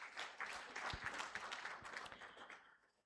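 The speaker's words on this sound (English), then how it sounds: "Please, let's give them a round of applause." Audience at the closing of a health integration summit applauds in a faint, distant, steady round of clapping that tapers off at the end.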